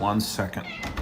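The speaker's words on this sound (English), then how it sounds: "And yes, that is a cat you heard." A cat lets out a brief meow, heard mixed in with a voice talking over it.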